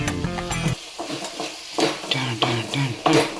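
Eggplant and potato pieces sauté in hot oil as a spoon stirs them, with soft sizzling under repeated close scraping and clinking strokes against the pan.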